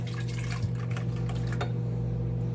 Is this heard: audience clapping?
no